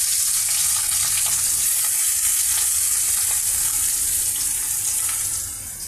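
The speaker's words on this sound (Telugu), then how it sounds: "ఇందులో కూడా ఈ ఫిష్ పీసెస్ని యాడ్ చేస్తున్నామండి" Fish pieces fry in hot oil in a pan, giving a loud, steady crackling sizzle that holds throughout and eases slightly toward the end.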